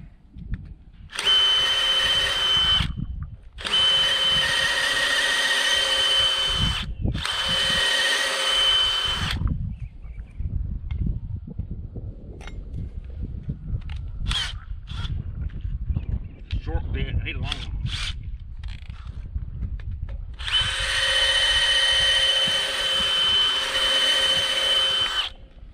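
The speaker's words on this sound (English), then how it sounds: "I'm gonna go ahead and drill it with the half inch and come back with the old dull bit." A power drill fitted with a half-inch bit bores into a gate at a sheep pen, whirring loudly in three close bursts and then a fourth after a quieter stretch of outdoor handling noise.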